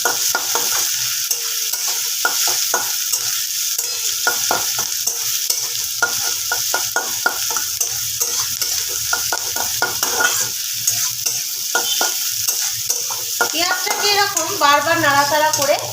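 Onions frying in a pan for chicken kosha, a steady bright sizzle with rapid stirring scrapes throughout, close and loud, with a brief burst of busier clatter near the end.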